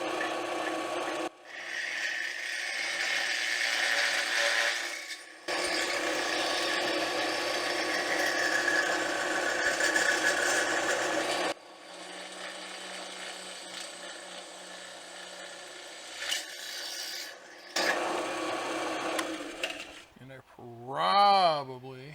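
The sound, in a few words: drilling through-holes in steel with cutting fluid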